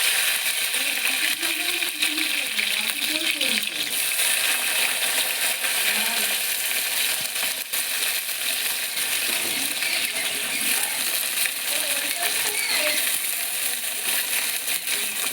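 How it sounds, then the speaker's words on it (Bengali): Cut bitter gourd frying in hot oil, a continuous broad hiss and crackle with occasional small clinks, loud and close without pause. "আমার তেল গরম হয়ে গেছে। এবার আমি এই যে উচ্ছে কুমড়ো কেটে ধুয়ে নিয়েছি। এবার আমি উচ্ছেটা ভেজে নিচ্ছি।"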